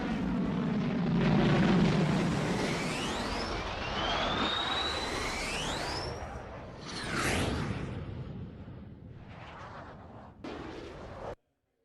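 A B-52 bomber roars overhead with a broad jet rumble and sweeping, rising whines, swelling to a louder blast before fading and cutting off abruptly.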